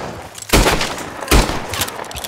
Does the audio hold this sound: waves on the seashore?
no